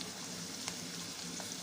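Chopped onions fry in a pan for a chana dal patoli curry, giving a close, steady sizzle with faint bubbling pops throughout and no talking.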